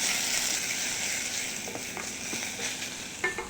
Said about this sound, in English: A bit of groundnut oil, an onion. Let that sizzle away.